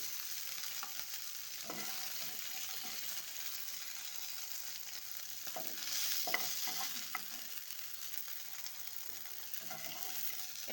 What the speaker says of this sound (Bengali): লো ফ্লেমে আমি ঢ্যাঁড়সটাকে ভেজে নিয়েছি।